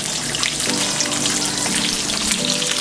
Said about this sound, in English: Gonna place our steaks right on the pan.